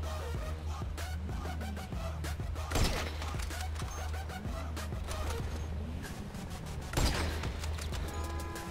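Gunfire in the GTA V video game, with sharp bursts near 3 s and 7 s standing out from a dense, steady bed of game sound and music, loud and close.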